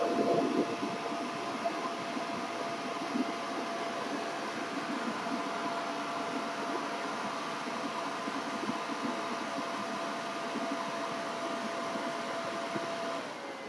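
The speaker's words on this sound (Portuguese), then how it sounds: "eu vou secar, vai fazer um pouquinho de barulho, porque eu vou secar aqui pra gente poder dar continuidade" Handheld dryer blowing air over fabric paint on a doll's face, a steady whirring hiss with a faint tonal whine that runs continuously close by, no talking.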